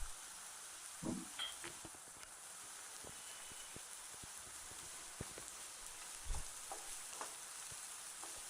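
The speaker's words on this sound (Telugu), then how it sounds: "ఆయిల్ హీట్ అయిన తర్వాత ఉల్లిపాయ ముక్కలను వేసుకోవాలి" Onion pieces dropped into three tablespoons of hot oil in a kadai, giving a steady, fairly quiet sizzle with a few louder stirring clinks and scrapes scattered through, no voices.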